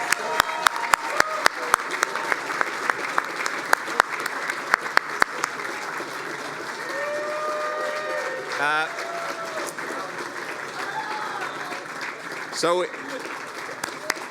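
Applause from the audience at an award benefit program: a dense, steady patter of many hands clapping throughout, fairly close and loud, with brief voices and cheers rising over it near the end.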